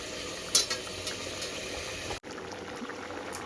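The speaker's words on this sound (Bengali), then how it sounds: "ঝোলটা আমার ফুটে গেছে" Curry broth bubbles steadily in a pan on the stove before fried fish goes in, a soft continuous simmer with a faint clink near the start and a brief dropout partway through, with no voices.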